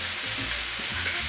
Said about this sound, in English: These tuna steaks look just about ready to be flipped.